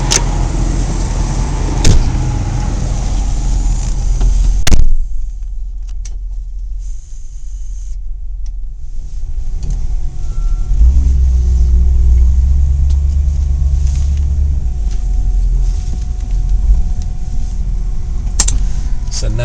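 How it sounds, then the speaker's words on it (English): A Cadillac Sedan DeVille driving around the block, heard from inside as a steady low road rumble with a few clicks and thumps from the cabin. "Let's take it for a quick little spin around the block and see how it rolls."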